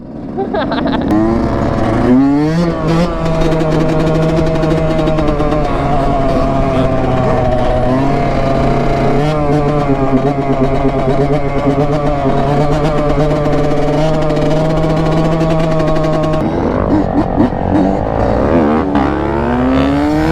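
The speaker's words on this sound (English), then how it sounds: "There's a quad coming at me." Quad bike engine revving loudly and close, a sustained buzzing drone with climbing and falling pitch at the start and end, with people talking and shouting over it.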